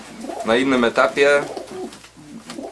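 Soft cooing of young pigeons in a loft mingles with people talking nearby, the birds' low murmuring calls rising and falling beneath the conversation.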